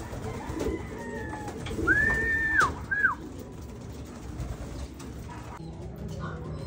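Racing pigeons arriving at a loft, with a couple of clear, close coos and soft calls over a low outdoor background.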